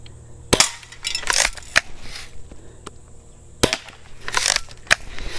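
A slingshot fires at a can for can cutting, making sharp, snappy cracks and clattering impacts in two short bursts separated by a quiet pause, close and fairly loud.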